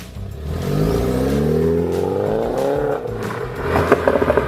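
Highly modified BMW 220 engine revving, a loud continuous rising and falling roar with clattering mechanical texture near the end, close by and with no talk over it.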